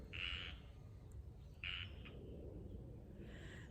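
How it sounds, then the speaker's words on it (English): Frogs croak in a garden at night, two faint raspy calls near the start and a softer one at the end, distant over a low steady background hum. "Listen to the frogs."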